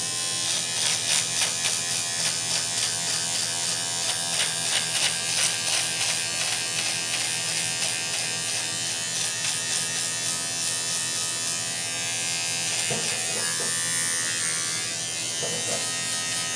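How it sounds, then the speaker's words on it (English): An electric trimmer buzzes steadily and close up while trimming a mustache, its drone holding throughout with slight shifts as it moves across the hair. "So what I do is I use the trimmer."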